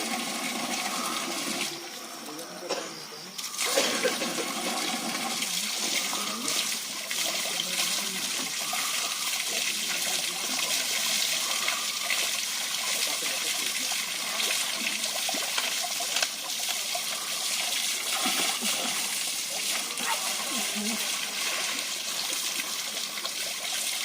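Water pours steadily at the Dorbar Chhatani waterfall at Lugu Buru Ghanta Bari in Bokaro, Jharkhand, a continuous broadband rushing roar with little change over time and no voices.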